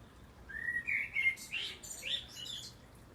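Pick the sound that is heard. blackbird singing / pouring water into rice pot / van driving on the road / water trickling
blackbird singing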